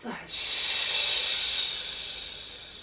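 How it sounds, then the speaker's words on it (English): A single long, deep breath during a Tai Chi breathing exercise hisses out close to the microphone, steady and breathy, gradually tapering off over a couple of seconds. "Take a deep breath in and out again."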